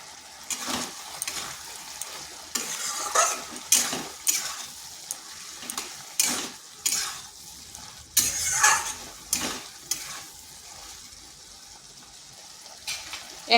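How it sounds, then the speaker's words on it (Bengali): Ridge gourd sautés in a pan with spices and two slit green chillies, a quiet steady sizzle broken by repeated scraping stirs of a spatula, about a dozen bursts at irregular intervals with no talking. "মশলাটার সাথে একটু কষিয়ে নিচ্ছি। দিয়ে দিচ্ছি 2টো চেরা কাঁচা লঙ্কা।"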